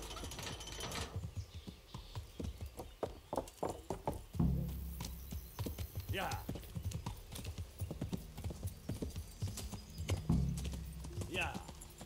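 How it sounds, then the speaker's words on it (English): A horse clip-clops along at a steady walk in Kingdom Come: Deliverance, the hoof beats close and regular, with a couple of whinnies and a voice speaking over them. "Mount the horse, Henry."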